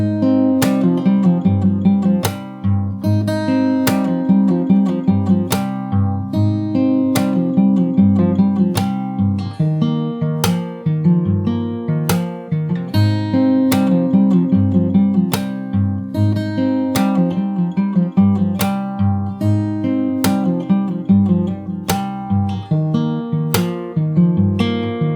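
Fingerstyle acoustic guitar plays the full chorus of a song, with a steady bass pattern under plucked melody notes and regular accented strums, loud and close, with no talking throughout.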